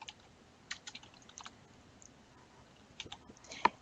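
Quiet, close computer keyboard typing comes in two short bursts of light clicks with a pause between them, and nobody speaks.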